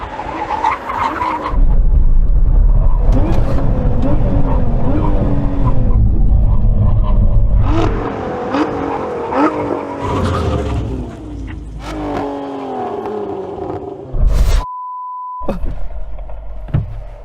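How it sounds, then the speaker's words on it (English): A sports car braking hard from 100 mph in a brake test, loud close engine and road roar followed by tyre squeal and skidding as it slows, then quieter rolling, with a brief radio tone near the end. "Here we go, we're at 100 miles an hour now. Get ready for the big old brake."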